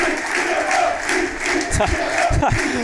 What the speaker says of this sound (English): Just nodding along to the singing, clapping the fans as well.